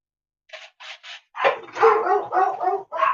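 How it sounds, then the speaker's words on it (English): A distressed puppy yelping and barking outdoors, starting with three short, separated yips and then breaking into a rapid, continuous string of high, urgent cries, fairly loud and close. "I'm hearing a puppy in distress."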